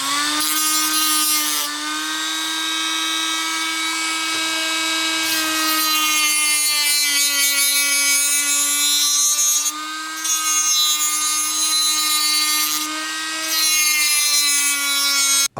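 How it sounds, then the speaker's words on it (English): A Dremel rotary tool cuts down the plastic side rails of a Scalextric Challenger slot car chassis, giving a steady high whine that shifts pitch slightly as the load changes across light, smooth passes. "I'm going to take my Dremel and I'm going to start cutting the chassis sides down"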